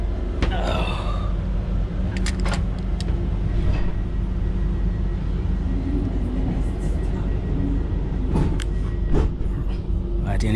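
A Gautrain commuter train standing at Johannesburg Park Station: a steady low rumble and hum of the train and platform, with occasional clanks and a voice talking over it.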